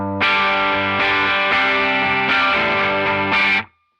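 An electric guitar runs through a drive pedal with no compressor, chugging distorted chords in several loud, thick strums that sustain fully before stopping abruptly near the end.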